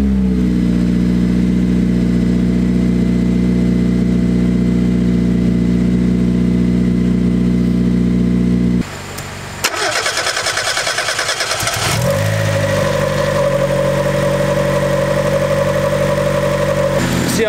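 A Honda Integra engine idles loudly with a rough, heavy drone, cuts out briefly, then cranks and catches again with a shaky, uneven start and a lower, steadier hum afterward.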